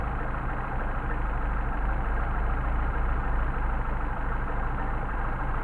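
Mercedes 190SL engine idling with a Solex 44PHH carburetor as its idle mixture screw is adjusted, a steady, close mechanical drone holding evenly with a gentle rise in speed.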